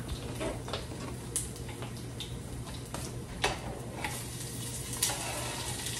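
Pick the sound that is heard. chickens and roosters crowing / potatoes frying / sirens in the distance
potatoes frying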